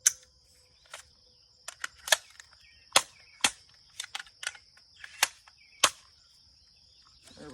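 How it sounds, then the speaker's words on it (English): Shots fired from an unbranded AR rifle at a range: about a dozen sharp, crisp reports at irregular intervals, sounding somewhat distant, with a steady high-pitched whine or insect-like tone running underneath. "But I'll take a few shots, see how she runs."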